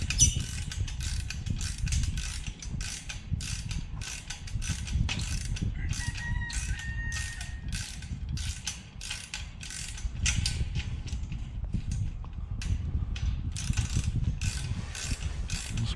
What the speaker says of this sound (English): Grateful for ratchet wrenches.